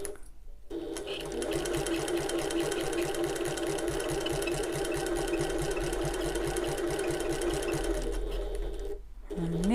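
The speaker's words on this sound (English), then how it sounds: "as I top stitch that should close that turning gap." A sewing machine top stitches around a small hobo bag to close its turning gap, a steady close whirring hum with rapid regular needle pulses running for several seconds before stopping.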